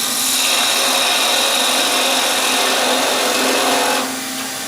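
Lathe tool cutting into a natural edge orange wood box bowl while hollowing the foot, a steady broadband scraping hiss that runs continuously and close, easing off slightly near the end.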